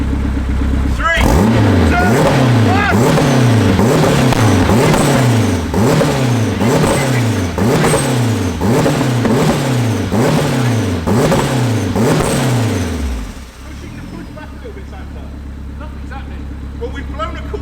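A K24-engined Toyota MR2 revs hard in a rapid series of about a dozen loud, rhythmic throttle blips that rise and fall, with people talking over it, before the engine drops back to a steady idle.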